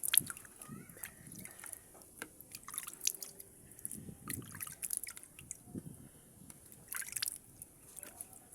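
Water drips and trickles in scattered irregular drops and small splashes while being fetched, close and fairly quiet, with no talking.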